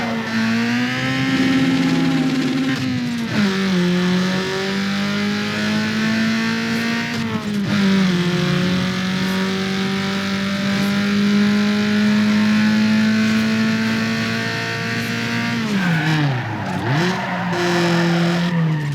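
A car drifts in Need for Speed Underground 2, its engine droning loud and steady with rising revs and long sustained tire squeal, dipping briefly near the end before surging again.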